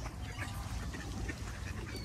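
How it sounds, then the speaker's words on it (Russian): Ducks quack busily while being fed, a dense low chatter of many birds close by with steady background noise and no talk. "маленьких тварей, уточек."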